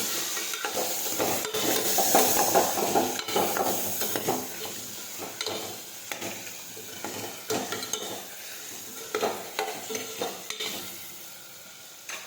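A spoon stirs spiced peas, potato and tomato curry in a pan, making repeated scraping strokes over a soft sizzle, close and moderately quiet, with no talking.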